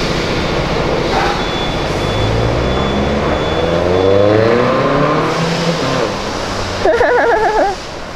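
A car engine revving on a São Paulo street, loud rising and falling throttle blips with exhaust roar, close by, followed by a short burst of chirping near the end.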